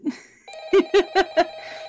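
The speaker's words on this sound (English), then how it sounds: "okay, stop that ringing. Answer the phone." A telephone rings in a FNAF fangame, four quick electronic bell bursts in a row, loud and close, with a short tone before them.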